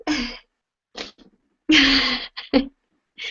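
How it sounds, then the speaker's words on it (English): A few sharp sneezes burst out close by, separated by short pauses, with a small sniff or catch of breath between them. "I'm going to sneeze."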